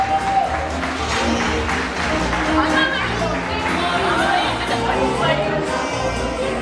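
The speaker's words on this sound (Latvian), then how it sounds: "Un aplaus arī." A crowd applauds at an award ceremony, a steady wash of clapping with chatter and voices mixed in, continuous and fairly loud throughout.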